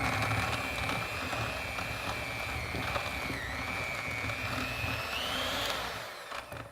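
Electric mixer whirring steadily as it beats cream cheese, butter and peppermint extract together, a continuous high motor whine that wavers slightly in pitch, close and alone.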